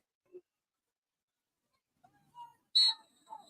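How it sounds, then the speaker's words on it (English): A referee's whistle sounds at an American football game on a grass field, one short sharp blast heard at a distance after near silence and a few faint sounds. "There's a whistle."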